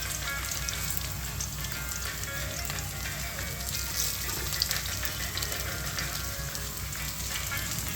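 Water spinach fritters sizzling in hot oil, a steady close crackle and hiss with small pops throughout, no speech heard.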